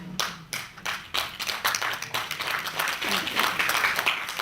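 A conference audience claps together in a fairly brisk, dense patter that starts in quick separate claps and blends into steady applause, with a voice speaking over it.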